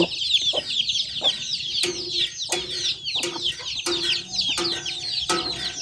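Chickens cluck repeatedly at close range in short, busy bursts, several birds overlapping with no talking.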